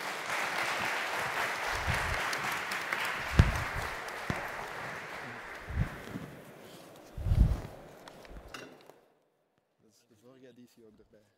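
An audience applauds the panel members after a discussion, with dense clapping that swells and fades, heavy thumps and shuffling, and voices talking under it before it ends in near silence.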